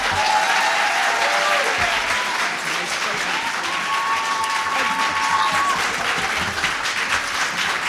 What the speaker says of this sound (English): how about a warm round of applause for both of these fine competitors